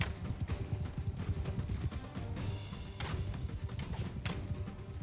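Horse hooves clatter through a Mount and Blade 2 Bannerlord battle, a dense galloping clip-clop running throughout with occasional crashes and thuds from the fighting.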